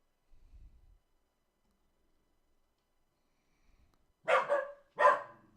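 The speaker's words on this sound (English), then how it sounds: "The dog is just in the bark mode today." Dog barking indoors: a faint low thump, then after silence two loud, sharp nearby barks in quick succession.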